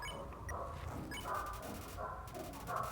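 A dog howls and yips in short bursts over a busy, steady background, fairly close and moderately loud.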